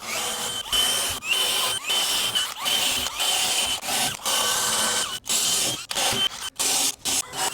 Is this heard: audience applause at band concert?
no